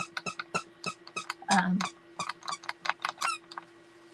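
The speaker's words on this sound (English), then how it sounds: "Now she's got her squeaky toy, you guys." A dog named Penelope squeaks her squeaky toy in rapid repeated bursts, many sharp squeaks in quick irregular rhythm, close and fairly loud, with a steady faint hum underneath.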